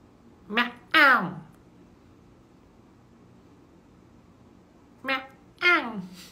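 A person's voice imitates cat meows to call cats, giving two quick mewing calls, then a long quiet pause, then two more calls close to the microphone.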